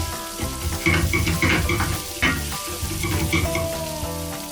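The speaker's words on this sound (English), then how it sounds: "So we are toasting the rice. Just move it around a little bit." Risotto rice toasts in a hot pan with a steady sizzle and frying crackle, stirred and moved around with scraping sounds, heard close with music playing underneath.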